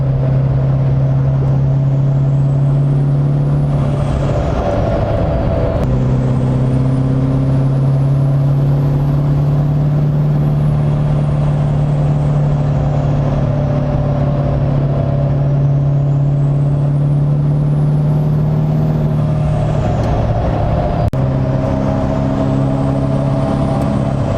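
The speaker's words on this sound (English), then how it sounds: "when you step on the throttle on the highway, the truck just gets up and goes" A heavy turbocharged truck engine roars steadily up close, its pitch rising and falling as it accelerates hard, with a brief hiss partway through.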